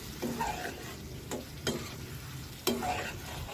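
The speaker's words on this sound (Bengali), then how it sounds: "কচুগুলো দেওয়া হয়ে গেলে ভালো করে নেড়ে নিব।" Taro pieces stirred with tilapia fish in a frying pan, giving a steady low sizzle broken by three sharp scraping strokes of the spatula, close up with no voices.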